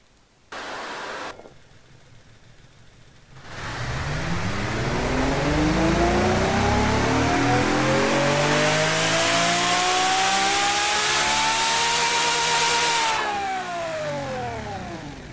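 A V12 engine revs on a virtual dyno in the video game Automation. A short idle gives way to a loud, steady climb to a sustained high wail before it falls away, with no voices.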